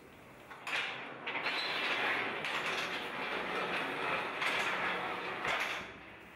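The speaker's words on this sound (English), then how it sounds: "The module can now be rolled out of the chamber." A stainless steel freeze dryer shelf module rolls out of its chamber on a support stand, a steady rumbling, rattling glide lasting several seconds at moderate volume with no talking.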